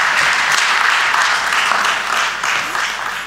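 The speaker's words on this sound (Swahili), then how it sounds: "Naomba tumpigie makofi mengi sana sana Mheshimiwa Waziri Mkuu." A crowd at the launch of electronic visa and residence permit services gives the Prime Minister a loud round of applause, dense, sustained clapping that swells and eases slightly over a few seconds.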